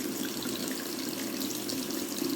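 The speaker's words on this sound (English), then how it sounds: "to wash your hands is very important before the food." A kitchen tap runs steadily over hands being washed before preparing food, a close, continuous splashing gush with no talking.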